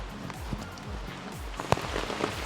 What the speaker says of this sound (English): It is heavy rain pouring.